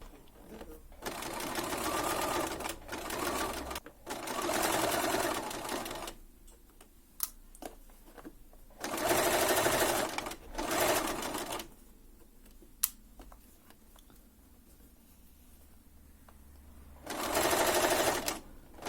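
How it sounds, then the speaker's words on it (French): Sewing machine stitching around a fabric wrist cuff, running close and loud in several bursts of rapid needle clatter separated by pauses with faint handling sounds. "Et ici, je vais piquer tout le tour à 1 mm."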